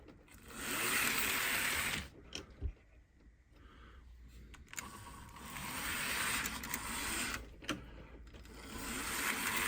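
A Hornby Dublo three-rail Bristol Castle model locomotive motor whirs in a steady mechanical drone, then cuts out briefly and restarts in uneven, hesitant bursts, close and fairly quiet.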